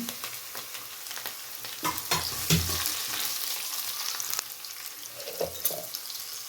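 Garlic, green chillies and dry red chillies sizzle in hot oil in a pan for lemon rice, a steady crackling fry broken by a few sharp stirring knocks and scrapes close by.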